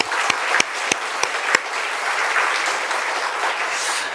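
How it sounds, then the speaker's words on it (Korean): A church congregation claps together at a New Year's Eve worship service, a dense, steady burst of applause filling the hall, with a few sharper individual claps standing out at the start. "무엇보다도 여러분들 하나님께 영광의 박수를 드립니다"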